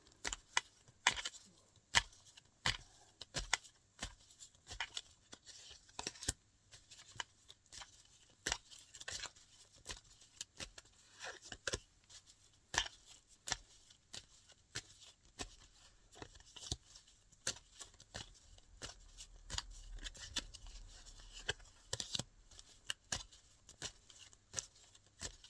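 Quiet, scattered riffling and snapping of playing cards being shuffled, in short irregular bursts with pauses between, no talking.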